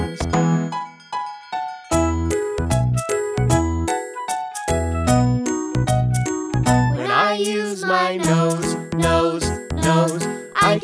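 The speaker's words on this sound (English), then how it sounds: "When I use my ears, ears, ears, I can hear the wind chimes." Bright, ringing wind-chime-like tones in a melodic, sung-along pattern in a children's song, steady and fairly loud throughout.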